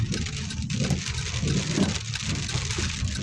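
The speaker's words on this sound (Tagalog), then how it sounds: "medyo malakas na yung ano niya. Yung ulan." Rain falls steadily on a surface, dense and close, with a low rumble of a passing vehicle underneath.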